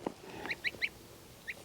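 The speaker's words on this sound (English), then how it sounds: "Hey, Suki the goose." Suki the goose honks in a short series of nasal calls, three quick honks followed by a pause and two more, fairly close and moderately loud against a quiet background.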